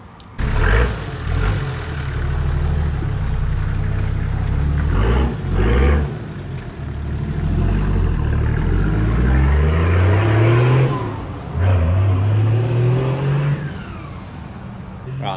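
Nissan Patrol engine running rough and coughing, low uneven rumble with surging revs and sputtering, loud and close throughout with occasional voices.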